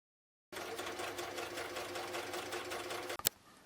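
A sewing machine stitches dress fabric pieces together in a steady, fast mechanical whir that runs for about three seconds, then stops with a brief clunk.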